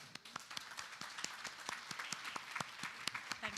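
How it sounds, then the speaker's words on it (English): An audience at a formal diplomatic anniversary event applauds to welcome a speaker, a fairly faint, distant patter of many hands with scattered sharper claps standing out. "Join me to give a warm of applause as we welcome Ms."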